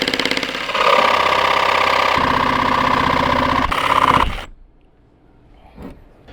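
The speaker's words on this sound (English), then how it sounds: "I think I will switch to the jigsaw." A jigsaw cuts through the metal wall of a Sprinter van for a new window, a loud, buzzing, rattling saw that runs steadily for about four seconds, then stops abruptly, leaving near silence and a faint clunk.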